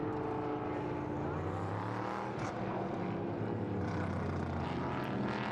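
Prototype Cup Germany race cars at the Nürburgring roll slowly toward the starting grid, their engines producing a continuous droning rumble that holds steady throughout, with no voices on top.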